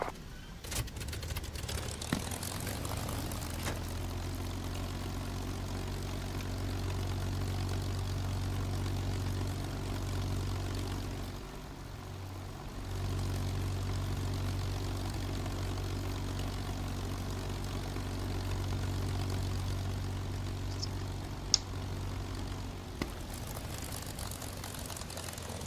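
Steady propeller engine drone of a P-51 Mustang in the DCS flight simulator, a continuous loud low hum with a brief dip midway and a couple of faint clicks near the end.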